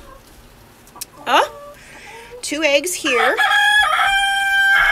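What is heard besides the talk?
chickens clucking and crowing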